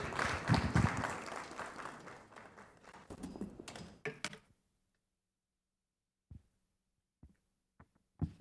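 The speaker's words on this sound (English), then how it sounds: "A round of applause for him." Audience applause for the Managing Director of Graphic Communications Group at a business breakfast meeting, a dense burst of clapping for about four seconds that stops abruptly, followed by near silence with a few isolated taps.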